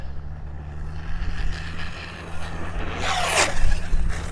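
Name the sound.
Arrma Typhon 6S RC car driving over a mound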